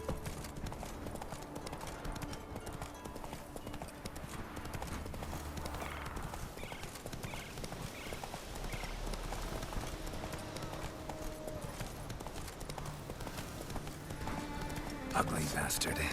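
Horse hooves gallop steadily in The Witcher 3, a continuous drumming of hoofbeats beneath game music and occasional voices.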